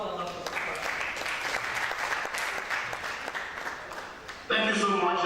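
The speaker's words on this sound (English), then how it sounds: "A round of applause for Dr. Popola." Audience applause for Dr. Popola at the University of Benin annual research day, a steady sustained clapping from a seated crowd that swells louder near the end.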